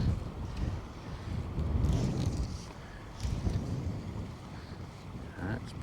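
Gusty wind buffeting the microphone on a spring salmon fishing outing, rising and falling in low rumbling surges, with faint water and boat sounds underneath.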